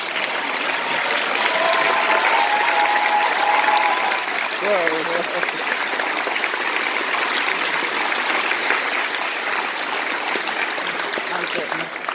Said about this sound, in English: please stand up and let's clap for all of our volunteers and chaperones